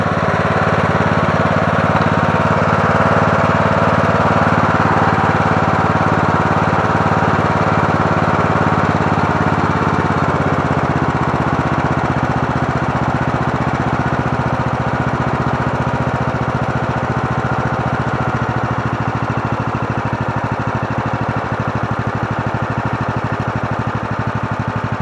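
Engine of a Murray Select 17.5 hp riding lawn mower with a 42-inch deck idling steadily up close, a continuous loud rumble that stays even throughout with no talk.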